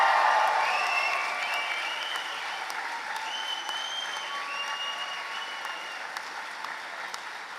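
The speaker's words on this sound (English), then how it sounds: "I think a proper cheer and thanks is necessary." A graduation ceremony audience in a hall gives sustained, dense applause with a few cheers, loudest at the start and then holding steady.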